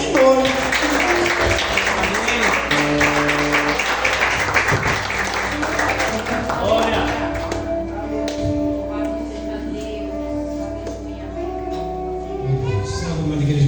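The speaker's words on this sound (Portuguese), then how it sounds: "aplauda ao Senhor" Congregation clapping in a church during an evening service, a dense loud burst of applause for about seven seconds that thins out, followed by music and voices continuing underneath.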